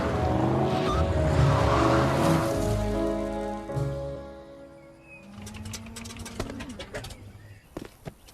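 A cartoon car swells into a loud rushing pass and then fades away, while pigeons coo nearby and soft clicks follow.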